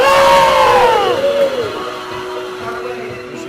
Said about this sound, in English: And the crowd's going wild.